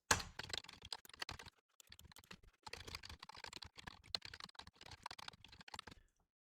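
Rapid clicking of computer keyboard keys as code is typed, bursts of quick, close keystrokes with brief pauses between them and no talking.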